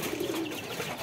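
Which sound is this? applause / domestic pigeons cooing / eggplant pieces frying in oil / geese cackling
domestic pigeons cooing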